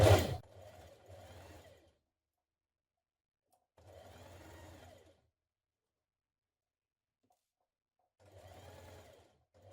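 Sewing machine stitching a dart on a spring shirtdress, running in three separate short bursts with quiet gaps between, close and moderately loud, each burst a steady whirring stitch lasting about a second or more.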